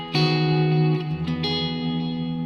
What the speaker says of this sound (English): some sort of a clean tone and a little bit of delay and reverb so that we can sustain these chords